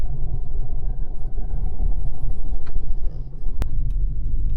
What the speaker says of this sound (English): a bit of traffic on the road